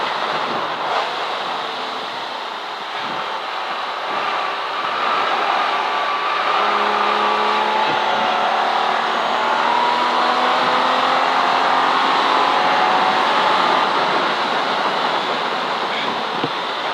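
A V12 race car in a CSCC Modern & Future Classics race at Silverstone, heard as a continuous onboard roar with engine pitch that climbs and shifts, mixed with heavy wind rush.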